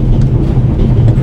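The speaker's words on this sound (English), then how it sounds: "The noise on this train is driving me crazy." Steady, loud rumbling train noise inside a moving train in the game The Raven: Legacy of a Master Thief, a continuous low drone without clear clicks, and no talk.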